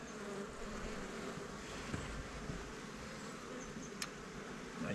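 Honeybees hum at an open beehive in winter while the brood comb is inspected, a faint, steady buzz with a few brief closer passes.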